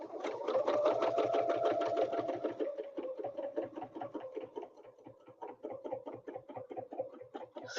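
A sewing machine stitches a quilt in a fast, steady mechanical rattle close by. It runs at full speed, then slows into slower, separate stitches, and a brief whir follows at the end.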